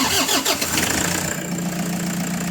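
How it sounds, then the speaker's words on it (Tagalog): The engine of a Toyota Hi-Ace van, just fitted with a new fuel filter, cranks briefly, catches, and settles into a steady idle, loud and close with no voices. "Pa-start ko na nga itong makina."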